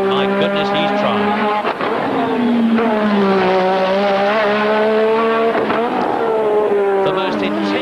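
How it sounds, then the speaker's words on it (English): Ayrton Senna's Lotus Formula 1 race car from the mid-1980s screams along a Grand Prix circuit, its high-revving engine note climbing and dropping through gear changes, loud and continuous, with a commentator talking underneath. "he's just going to avoid being balked by the car in front of him, and Senna"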